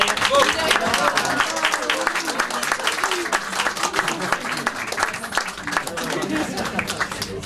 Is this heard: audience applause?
yes